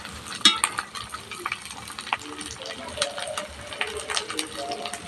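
Garlic, ginger, onion and chilli powder frying in a pan as the spices are stirred, a steady soft sizzle broken by scraping spoon taps, close up and with no speech.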